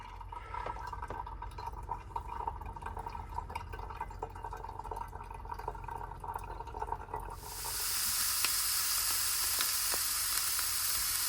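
Canadian bacon (circle ham) sizzles in a pan with a soft, steady crackle and scattered pops, then the hiss grows brighter and louder partway through, with no talking.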